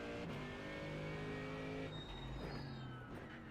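Mercedes-AMG GT3 race car at Sebring in the iRacing simulator, a steady, loud engine drone that shifts pitch about midway as it changes gear, continuous with no voices.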